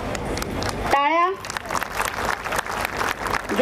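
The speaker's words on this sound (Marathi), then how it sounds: "टाळ्या." Applause from a gathered crowd at a women's fishing community day celebration in Khar Danda Koliwada, steady clapping continuing under a voice and a brief whistle-like tone.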